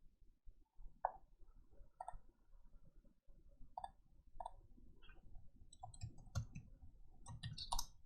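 Computer mouse buttons click sharply and quietly while working in CAD software, about a dozen isolated clicks spaced irregularly, close and alone, with soft handling noises between them.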